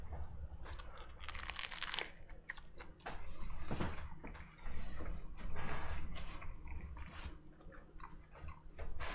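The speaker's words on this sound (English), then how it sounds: "Did you get that crunch ASMR or no?" Close, loud crunching bites into a shrimp and grits crunchwrap, several crisp irregular crunches with chewing between them.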